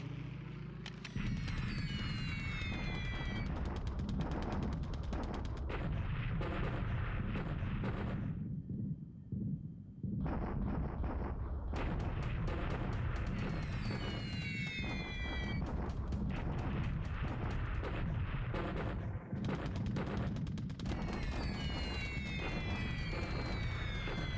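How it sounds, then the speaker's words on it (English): Bombing raid explosions and gunfire from the War in the Pacific strategy game, a dense, continuous barrage of loud blasts and crackling fire with whistling sweeps, briefly dropping out near the middle before resuming. "we got a bombing raid going into Palembang"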